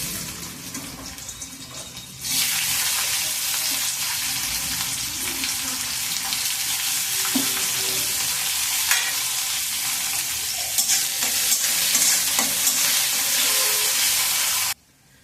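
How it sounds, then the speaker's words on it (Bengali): Carrots and beans frying in a pan for vegetable khichdi make a loud, steady sizzle that starts abruptly after a quieter opening and runs until a sudden stop. "এবার ভেজে নেব গাজর আর বিনস।"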